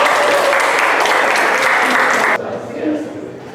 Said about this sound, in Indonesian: Teman-teman yang lain kasih tepuk tangan buat kelompok Sucipta ya.